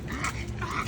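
A dog's short yelping bark with whimpering tones, close and fairly loud, over a murmur of background noise, lasting under a second.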